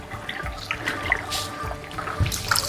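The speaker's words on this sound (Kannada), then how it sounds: "ಫುಲ್ ನೇಚರ್ ನಡ್ರಾಕ ಹಿಂಗೆ ನೀರು ಹರಿತಿರ್ತೈತಿ" Clear water flows along a natural stream near a hillside temple site, a close, continuous trickling and gurgling with small splashes and no voices.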